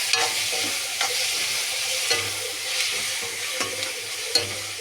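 Three tomatoes fry in a pan with onion paste, making a continuous close sizzle punctuated by regular spoon-scraping stirs roughly every second.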